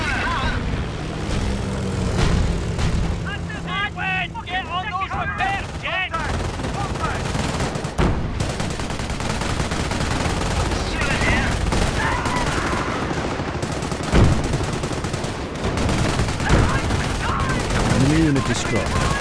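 Gunfire in the Company of Heroes video game during the Carpiquet airfield battle in Caen: dense machine-gun bursts and rifle shots crackling continuously amid battle noise, with voices speaking over it.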